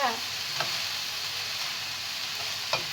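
Spring roll filling with glass noodles being mixed and stir-fried in a pan gives a steady frying sizzle, with a few soft clicks of stirring utensils against the pan.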